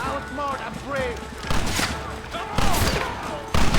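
Gunfire crackles through a Red Dead Redemption shootout, shots popping repeatedly over shouted voices and battle noise, with a couple of sharper, louder reports near the end.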